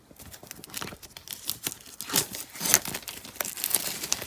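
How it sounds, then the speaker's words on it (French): Small scissors cutting open plastic blister packaging on an oracle card deck, a string of crisp crinkles and snips that grow busier midway, close and alone without talk. "Je prends ma petite paire de ciseaux pour essayer de détacher tout ça."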